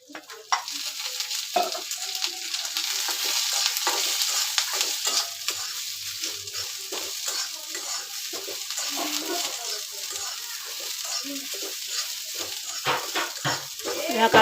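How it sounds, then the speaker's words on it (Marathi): Chopped onion frying in oil in a pan for a homestyle amti, a steady close sizzle with soft stirring scrapes running through. "आता इथे कांदा घातलाय, कांदा भाजून घेते."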